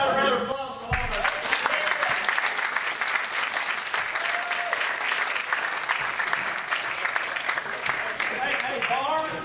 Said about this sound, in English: I thought round of applause for all of us.